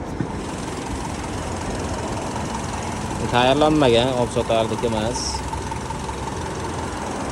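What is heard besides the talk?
car engine idling, Chevrolet Gentra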